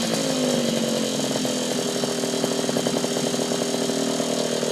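Yamaha PW50 dirt bike two-stroke engine with a Jemco exhaust buzzes continuously at high revs, harsh and raspy like a chainsaw, loud and close throughout.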